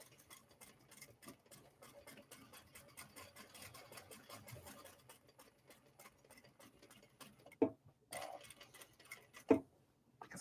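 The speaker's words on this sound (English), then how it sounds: "how loud is the sewing machine?" A sewing machine runs with a fast, even mechanical ticking, quiet and steady, then stops, followed by a couple of soft knocks.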